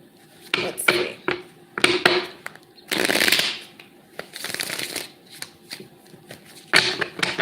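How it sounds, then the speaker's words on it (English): A tarot card deck is shuffled by hand in several quick bursts, crisp riffling and slapping of cards close up, separated by short pauses, with no talking. "One more shuffle."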